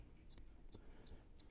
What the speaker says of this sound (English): When scissor over combing, the comb's basically acting as your guideline.